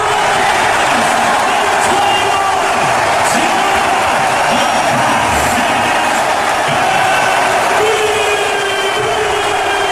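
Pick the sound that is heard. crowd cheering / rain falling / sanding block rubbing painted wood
crowd cheering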